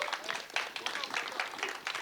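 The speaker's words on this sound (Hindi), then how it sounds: "एक बार सारे कास्ट के लिए बहुत सारी तालियां होनी चाहिए प्लीज" Soft, distant applause from the audience at a trailer launch for the film Jatt & Juliet, a steady patter of many hands that stays low and even throughout.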